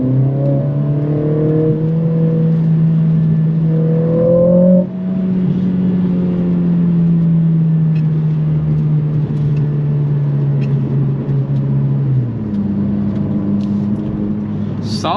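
A 2023 Mercedes-AMG CLA 45 coupe with a 382 hp inline-4 turbo engine and 8-speed automatic pulls hard, its engine note rising through the revs, then dropping briefly at a gear change before climbing again, loud and heard from inside.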